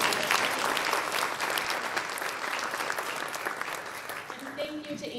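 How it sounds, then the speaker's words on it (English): A gathered crowd breaks into sustained applause, dense clapping that fills the room at an annual public event and slowly tapers at the end, with a voice talking over the tail. "Can we just applaud for that?"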